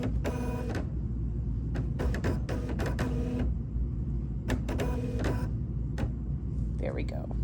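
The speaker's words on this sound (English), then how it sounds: "I'm going to stitch the foam down" An embroidery machine stitches foam down onto a Kimberbell trapunto pillow, running in several whirring mechanical bursts separated by short pauses, with a voice talking over it.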